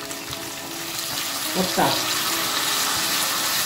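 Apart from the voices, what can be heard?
water added to frying potatoes in pan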